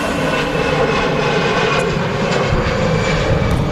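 Two EasyJet airliners at Manchester Airport, one arriving as another departs, producing a loud continuous jet engine roar that fills the short stretch without pause.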